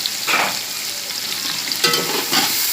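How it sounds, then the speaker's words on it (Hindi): Beef pieces fry and are stirred in a hot pan with garlic ginger paste, giving a steady loud sizzle with periodic scraping stirs, close to the microphone and with no voices. "अब मैंने इसके अंदर ये गोश्त डाल दिया है और इसकी मैं भुनाई करूँगी"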